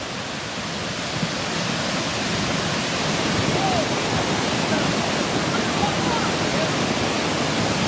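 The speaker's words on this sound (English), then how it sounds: "water rushed in" Floodwater rushes through a town in Colorado after a fire, making a dense, continuous roar that stays loud and unchanging throughout.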